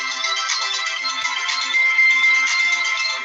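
A telephone ringtone rings continuously, a bright melodic electronic tone pattern that repeats steadily and loudly for a few seconds with no voices over it.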